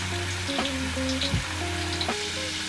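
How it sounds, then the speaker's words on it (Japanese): Potato pieces slowly frying in oil over low heat after going into cold oil, a soft steady sizzle with faint crackles, close and without talking. "火にかけてない油の状態から芋を入れてもらって、ここから低温でじっくり火を入れていきます"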